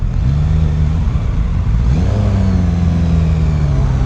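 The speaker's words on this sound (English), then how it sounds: "really digging the sound of this motor, this exhaust" A 2021 Suzuki Katana motorcycle engine idles loud and close, then revs up with a rising exhaust note and settles into a steady throaty drone.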